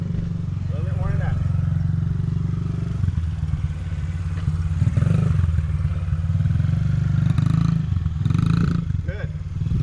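A motorcycle engine hums steadily and rises slightly as gas is added during circle drills in an open lot, a continuous low drone with light clatter, while people talk over it throughout.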